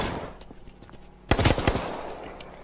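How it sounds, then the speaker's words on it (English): Gunfire in the battle royale video game H1Z1 comes as a short, rapid burst of several sharp shots partway through, fairly close and loud over quiet game background. "Gun."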